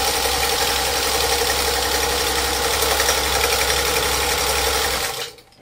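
A home sewing machine driven by its foot pedal, with a quarter-inch guide fitted for piecing quilt strips, runs in a steady close whir for about five seconds, then stops abruptly.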